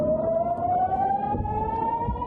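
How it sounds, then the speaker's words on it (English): A loud air-raid siren in northern Israel wails in a long, slowly rising tone, continuous throughout with faint background rumble. "Non-stop sirens blared across northern Israel throughout Sunday."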